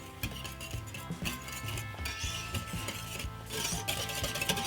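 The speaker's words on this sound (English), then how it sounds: "the hand whisk works the best for me. I'm just going to blend this all together." A hand whisk blends pumpkin bread batter in a big bowl, making soft rubbing scrapes and light irregular clinks against the bowl. The sound is close but quiet, with no talking.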